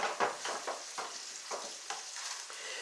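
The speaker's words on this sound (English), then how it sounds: "the meat is getting nicely browned there" Meat browning in a hot pan for a burrito, a steady sizzle with a rhythmic run of scraping stirs about every half second, close and moderately loud.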